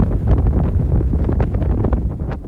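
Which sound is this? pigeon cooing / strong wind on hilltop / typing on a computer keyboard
strong wind on hilltop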